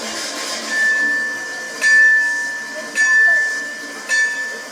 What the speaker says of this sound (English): With the bell sounding, the 261 is underway